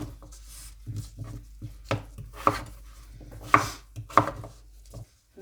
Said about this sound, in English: Next we will cut our potatoes into cubes so we can half fry them